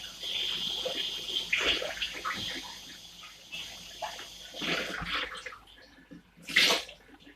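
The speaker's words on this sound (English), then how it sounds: "I'm just going to rinse my knife and rinse out my bowl." Tap water runs while a knife and bowl are rinsed at a kitchen sink during spaghetti bolognese prep, a steady close splashing stream that swells into brief louder gushes and splatters.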